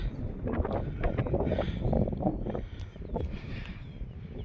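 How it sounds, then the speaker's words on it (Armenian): Gusty outdoor wind in the Armenian mountains buffeting the microphone, rumbling low and steady with rising and falling surges; no one speaks. "մի քիչ քամի է"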